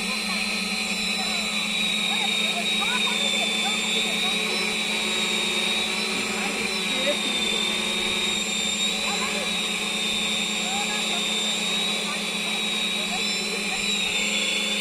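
Hexacopter drone motors running at full power while lifting a weighted bottle, a steady high-pitched whine and buzzing drone that holds throughout, with faint voices talking underneath.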